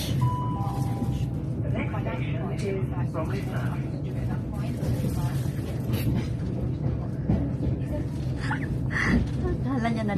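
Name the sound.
train riding on rails, passenger onboard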